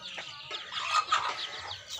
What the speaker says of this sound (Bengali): 10টা ডিম দিছিলাম, 8টা বাচ্চা ফুটাইছে